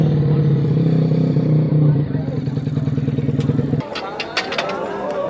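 Upgraded drag motorcycle engine revving on a test ride, a loud steady drone that cuts off after about four seconds, followed by clattering noises and a voice.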